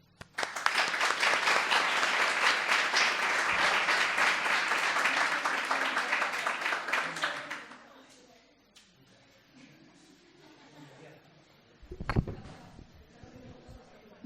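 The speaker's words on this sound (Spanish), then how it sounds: "Un fuerte aplauso para ella" An audience at a talk breaks into loud, dense applause for speaker Elena Merino, holding steady for about seven seconds and then dying away into quiet room sounds, with a brief louder knock or bump near the end.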